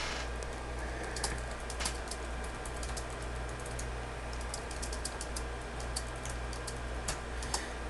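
Quiet, rapid clicks of keys tapped on a computer keyboard, irregular and close, over a faint background hum.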